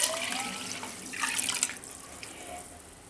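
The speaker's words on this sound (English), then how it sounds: "I'm going to add in the water." Water poured from a vessel onto washed grapes in a steel pot for homemade wine, giving a close, splashing pour that starts strong and tapers off, with no talk.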